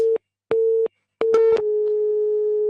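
A telephone busy signal follows a dropped call: three short, evenly spaced electronic beeps, then a steady unbroken tone that holds to the end, clear and alone.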